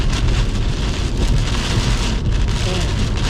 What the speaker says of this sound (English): I'm really fighting the wind.